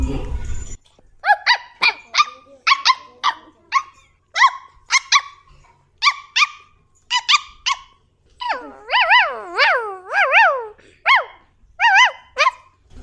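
A voice imitates dogs barking, giving a long series of short, loud, harmonic yelps and bark-like calls in a steady rhythm, some drawn into rising-falling howls, with a brief burst of noise at the start.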